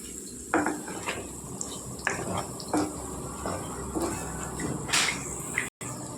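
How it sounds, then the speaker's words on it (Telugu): Garlic frying lightly in a pan with oil for a carrot and potato fry, a soft continuous sizzle broken by several clinks and scrapes of a utensil against the pan. "లైట్గా వేగాలండి ఎల్లుల్లిపాయలు."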